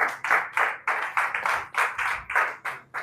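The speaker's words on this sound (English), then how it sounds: "Let's give a round of applause." Clapping after a call for a round of applause at a business success event in Abeokuta, heard as about a dozen loud, distinct bursts in a steady rhythm, close by and alone.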